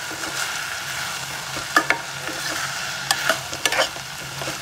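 Asparagus curry stirred in a pan as it cooks, with a steady close frying sizzle and several sharp scraping clinks of the spoon spaced through the sizzle.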